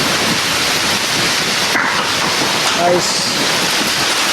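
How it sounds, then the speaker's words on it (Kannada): Heavy rain pours in a steady, loud roar with a strong windstorm gusting behind it, and a voice speaks briefly over the downpour. "ಫುಲ್ಲು ಬಿರುಗಾಳಿ, ಫುಲ್ಲು ಮಳೆ ಬರ್ತಾ ಇದೆ ನೋಡ್ರಿ."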